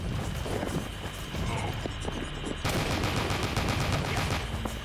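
Rapid automatic gunfire from SMGs in the video game Drake of the 99 Dragons, dense continuous bursts of shots filling the whole stretch, loud and close with no pause.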